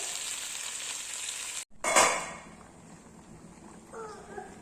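Chicken and partly cooked rice fry in a pan with a steady, fairly quiet sizzle, broken by a brief pause and then a louder burst of hissing as the pan is stirred.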